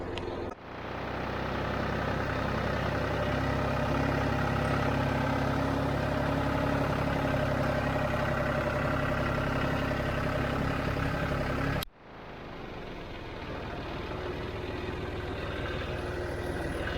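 A John Deere tractor engine runs steadily while driving on a farm, a loud continuous drone that cuts out briefly near the end and then resumes.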